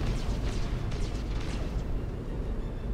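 Warship batteries fire in a Battlefleet Gothic Armada space battle, a rolling barrage of rumbling blasts and crackling bursts that holds steady and loud throughout, with no talk over it.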